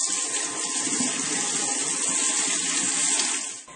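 Cold tap water runs steadily over blanched vegetables such as celery, onions and leeks in a kitchen sink, a continuous close rushing stream that fades out at the very end.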